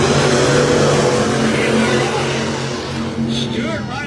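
Factory stock race cars roar around the Enid Speedway dirt track in a heat race, engines droning steadily and loud with a public-address announcer talking over the continuous din.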